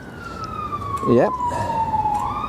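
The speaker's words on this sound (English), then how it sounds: "Oh, it's a fire engine." A fire engine siren wails in a steady, falling tone as it passes nearby, outdoors, with a brief warbling sweep in the middle, while a person speaks briefly over it.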